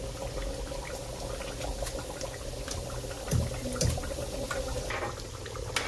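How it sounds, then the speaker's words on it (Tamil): A pot of mixed vegetables boils steadily, a continuous close bubbling and churning with a couple of brief louder splashes partway through, meals being cooked for a large group. "இந்த மிக்ஸ்டு வெஜிடபிள் வெந்துட்டு இருக்கு."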